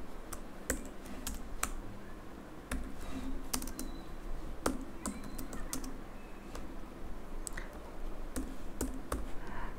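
Typing on a computer keyboard: a steady run of crisp, close key clicks at an uneven pace over soft background hiss, with no voice heard.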